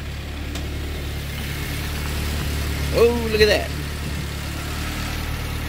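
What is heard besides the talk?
K-swapped Mitsubishi Starion engine idling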